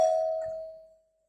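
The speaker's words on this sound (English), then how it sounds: "Don't mind the doorbell." A single doorbell chime rings once, clear and close, then fades out into silence.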